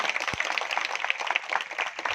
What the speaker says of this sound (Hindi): एक जोरदार ताली अपने लिए बजाइए